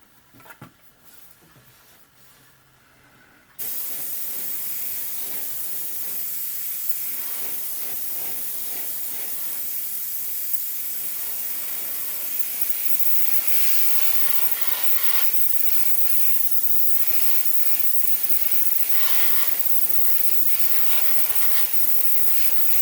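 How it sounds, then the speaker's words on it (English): An airbrush sprays paint onto a model ship in a steady, close, loud hiss that starts abruptly after a few seconds of quiet and runs continuously to the end. "And I'm going to hold the airbrush same distance away."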